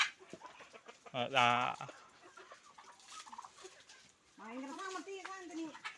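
Native country chickens and roosters cluck and crow nearby in short bursts, with quieter rustling between calls; one louder drawn-out crow stands out.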